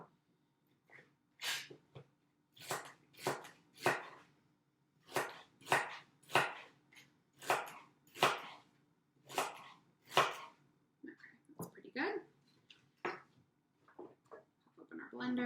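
Knife chopping greens on a cutting board for a green power smoothie: a series of sharp, close, evenly spaced chops with short pauses between bursts, followed by lighter, quicker cuts.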